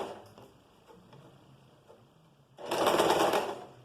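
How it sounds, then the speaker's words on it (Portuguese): A sewing machine runs a short burst of stitching on a top's seam, one centimetre from the edge, loud and close after a quiet stretch of faint handling sounds. "E vou fazendo essa costura a 1 centímetro de distância até chegar aqui no fim dessa parte."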